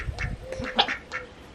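Duck quacking outdoors on an overcast farm among sheep and goats, a few short nasal quacks in a quick cluster, moderately near and clear with no talk over them.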